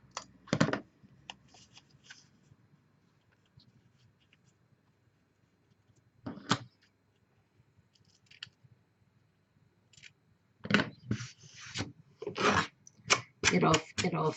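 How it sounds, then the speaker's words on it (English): Scissors snipping the edges off paper book tags, heard as short crisp cuts and rustling paper bursts spaced out over a quiet room, close and fairly faint, in sporadic clusters. "Let's just cut some edges off."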